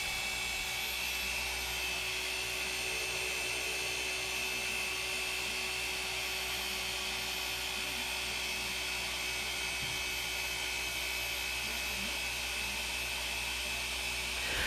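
A JESCAR paint correction polisher running on its third or fourth speed setting, a steady, continuous whine held at an even level throughout with no pauses and no talking.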